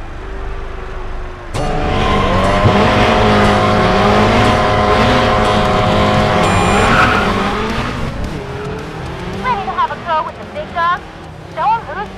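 Race cars on a Chicago mini circuit in the mobile racing game Racing Master, with loud engines revving continuously and tires skidding and squealing, then quieter bursts near the end, with talk over parts of it.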